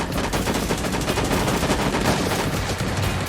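Dense, continuous gunfire from the cartoon battle-royale video game Sausage Man, rapid automatic bursts layered over each other at a steady loud level, with no speech over it.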